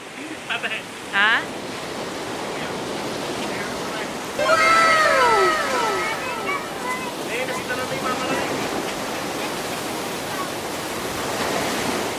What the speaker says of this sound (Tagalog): Ayan na, naririnig ko na yung alon ng dagat.